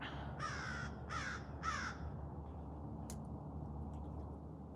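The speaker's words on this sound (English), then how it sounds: "the crow finds it hilarious." Three loud, harsh crow caws in quick succession over steady outdoor background noise beside a canal and old trolley line, followed by quieter ambience and a brief sharp click.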